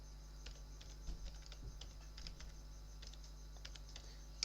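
Typing on a computer keyboard while entering a Linux password command, quiet irregular key clicks in quick bursts over a faint steady hum, with no talking.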